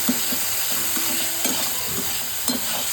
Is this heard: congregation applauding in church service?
no